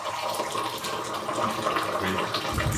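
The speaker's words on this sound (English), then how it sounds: "why they pour the tea from so high" Mint tea splashes steadily as it is poured from high up into a glass in Marrakech, a continuous bubbling liquid stream heard close and fairly loud.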